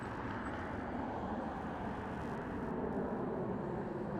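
Jet airliner on the runway at Las Vegas Harry Reid Airport during an aborted takeoff, a steady distant engine roar, broad and unbroken throughout.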